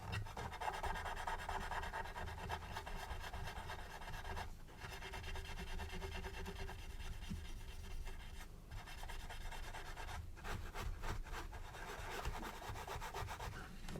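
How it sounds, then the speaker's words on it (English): A cloth wipes excess filler off a 1/32 Special Hobby Tempest Mk V scale model with Tamiya lacquer thinners, giving soft steady rubbing strokes that are faint and close with brief pauses. "Just wipe the excess off with some Tamiya lacquer thinners."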